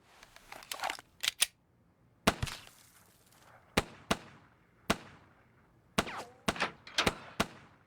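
Sharp gunshot cracks from a storyboard animatic of a hotel caper film, about a dozen dry isolated bangs in irregular bursts, some closely paired, with quiet gaps between and no talk.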